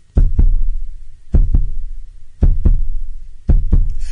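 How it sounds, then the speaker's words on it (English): A heartbeat sound effect thumps in four evenly spaced lub-dub pairs, deep and close, each double beat followed by a low lingering hum, with no talking. "That is the heartbeat of this section."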